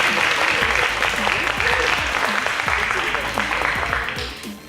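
Applause from a school audience for the Crescent International High School quiz team, a dense sustained clapping that fills the room close by and fades slightly at the end.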